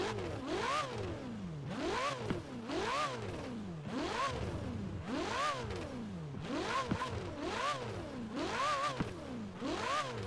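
A Ferrari 488 Pista engine in Forza Horizon 4 revs from idle to about 8,000 RPM and back repeatedly, rising and falling in pitch in a steady cycle, loud and close, with a synthetic game-like tone.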